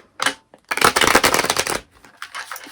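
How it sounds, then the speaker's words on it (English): A deck of tarot cards riffled in one last shuffle, close and crisp: a short burst, then a longer dense rustling flutter, with a few light taps after. "I'm gonna give it one last shuffle."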